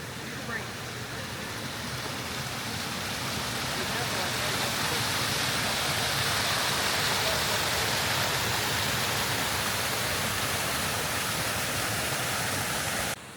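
Steady, full roar of a waterfall pouring into a swimming hole beside a rugged Arkansas ATV trail, continuous broadband rush filling the whole stretch without pause, close and loud.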